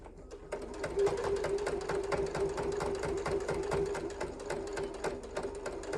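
A sewing machine back-stitches through a fabric bag, its needle running in a steady rapid mechanical chatter with a constant motor hum, close and continuous throughout.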